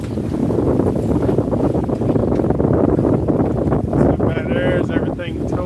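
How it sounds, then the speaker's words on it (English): Heavy wind roars steadily across the microphone aboard a boat crossing Albemarle Sound, a constant loud rush, with a voice briefly audible near the end. "We're going to be in the wind for a minute."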